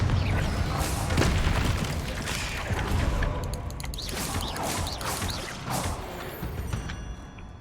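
Confringo, the fiery explosive spell from Hogwarts Legacy, goes off in a string of booming, crackling blasts over a dense, busy layer of game ambience and mechanical clatter.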